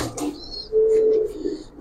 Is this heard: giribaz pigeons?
yes